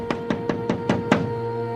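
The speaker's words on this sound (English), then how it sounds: "two suspicious-looking men knocked at the door." Six evenly spaced knocks on a door, firm and close, sound over a steady low background hum as a storybook sound effect.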